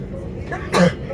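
A single short, sharp sneeze bursts out close by inside a Southern commuter train on the Watford Junction to Clapham Junction line, over a steady low rumble of the carriage.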